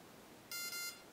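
Two quick high-pitched electronic beeps in a row from a quadcopter ESC during throttle calibration, faint and close, over a quiet background hiss.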